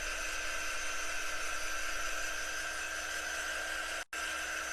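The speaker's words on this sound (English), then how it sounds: "So I'm actually going to dry this real quick" A heat drying tool blows over chalk on a craft surface, giving a steady, close, high whining hum that cuts out abruptly for an instant before resuming.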